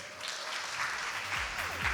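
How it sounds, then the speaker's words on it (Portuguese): A group in a talk or workshop setting claps together, a dense, steady burst of applause that fills the whole two seconds at close range. "Palmas para vocês."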